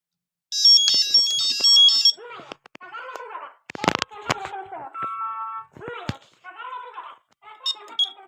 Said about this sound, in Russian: Давайте сработаем второй датчик дыма.